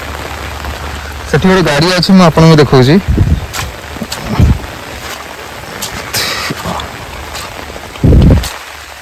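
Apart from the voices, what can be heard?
rain falling in a village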